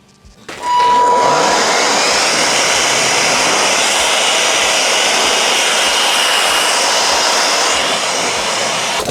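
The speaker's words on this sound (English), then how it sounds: "that is a awesome thing to have at the sawmill, to just blow off stuff like this" A battery-powered blower spins up and then roars steadily and loudly at close range while clearing debris off a Frontier sawmill, a continuous airy whoosh with no talk over it.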